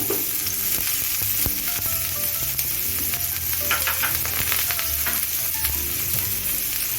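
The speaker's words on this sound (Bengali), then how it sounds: "দেখুন একটা ননস্টিক কড়াইতে আমি দু টেবিল চামচ সর্ষের তেল দিয়ে গরম করে নিয়েছি এখন আমি পেঁয়াজ কুচিটা দিয়ে দিচ্ছি" Chopped onion frying in hot mustard oil in a nonstick pan, a loud continuous sizzle with scattered crackles and occasional scraping stir clicks, close up with no talking.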